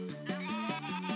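Synthesized sheep bleating from the Game Boy Advance game Sheep, a loud run of repeated wavering bleats with a pulsing rhythm, heard alone and close up.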